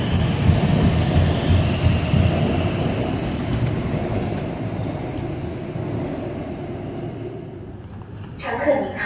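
A Chengdu Metro subway train runs along the line, a steady rumbling rattle of wheels on track that fades toward the end, when a brief squeal or chime is heard.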